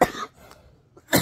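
A woman coughs in two harsh bursts separated by a short pause, close and fairly loud.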